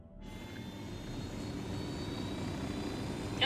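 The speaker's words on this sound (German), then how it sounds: "Lass mal mit dem Heli fliegen" A helicopter flying in the Ghost Recon Wildlands video game, giving a steady, sustained engine and rotor roar that holds at an even level throughout, with no talk over it.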